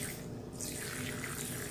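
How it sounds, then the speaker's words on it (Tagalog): Water is poured or trickles steadily into the enclosure of a pet tarantula named Zina, a soft continuous splashing heard alone at low volume. "ilagyan muna natin ang tubig si Zina"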